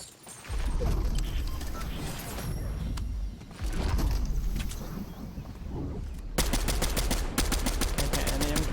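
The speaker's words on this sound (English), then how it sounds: "Shots right now." Gunfire in Fortnite, with a Sharp Tooth pump shotgun in play: loud bursts of shots, a dense rumbling volley early, then a fast rattling string of repeated cracks near the end, close and alone.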